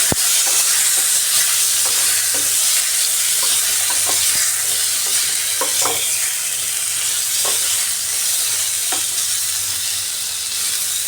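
Panch phoron whole spices fry in hot oil with a strong, continuous sizzle, with scattered soft clicks of stirring throughout and no voices.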